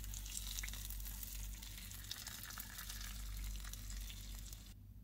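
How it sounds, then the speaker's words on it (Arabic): Hot ghee poured over a serving of Syrian makdous fatteh (eggplant fatteh) sizzles in a steady, close hiss that holds for about five seconds before cutting off abruptly, with no voices. "وآخر شي ما بننسى طشة السمنة السخنة على الطبقين"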